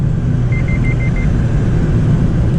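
A Mazda Miata's lane keeping warning sounds as a quick series of five short, even beeps over the steady low rumble of the engine and road noise inside the car.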